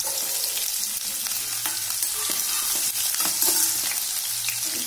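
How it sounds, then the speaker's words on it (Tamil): Ginger sautés in a pan for millet kichadi, giving a continuous close, fairly loud sizzle and crackle of hot oil with occasional stirring scrapes throughout. "கொஞ்சம் நல்லா வதக்கட்டுங்க."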